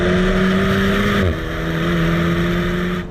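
Alpine A110S sports car engine heard from the cabin, a steady high drone that drops in pitch as a gear changes, then climbs again under load while driving.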